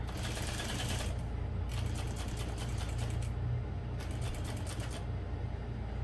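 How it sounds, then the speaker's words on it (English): A sewing machine top stitching down the long sides of a fabric bag handle, running in a fast continuous mechanical whir with brief pauses between bursts, close and loud. "I'm just top stitching down both long sides of the handle using an 1/8 of an inch"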